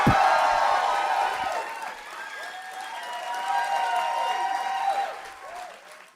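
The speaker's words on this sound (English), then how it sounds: "Usador can hear your applause, and he appreciates it." Live show audience bursting into applause and cheering, loud at first then easing slightly, with whoops and high excited shouts rising over the steady clapping of a packed crowd.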